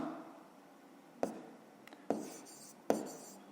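A pen writes on paper in a quiet room during a fifth-grade math exercise, with a soft steady scratching broken by three sharp taps or strokes at roughly even intervals.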